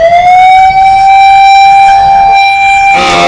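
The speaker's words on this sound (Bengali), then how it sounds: "এখানে দু একটি অ্যাম্বুলেন্স ইতিমধ্যে আটকা পড়েছে" A loud, steady siren from an ambulance stuck in a traffic jam in Sylhet holds a sustained wailing tone close by, then cuts off abruptly near the end into harsh noise.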